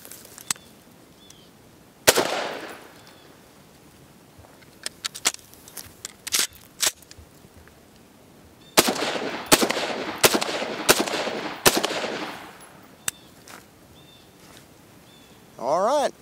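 An XCR rifle covered with rocks from a quarry floor fires sharp, loud shots outdoors, one lone report early on, then scattered single shots and a rapid cluster of several shots in a row, with a brief rising sound at the very end.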